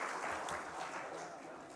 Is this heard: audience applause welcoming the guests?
yes